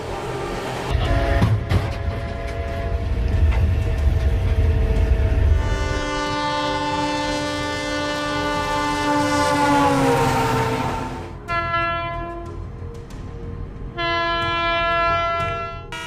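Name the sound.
train passing and sounding its horn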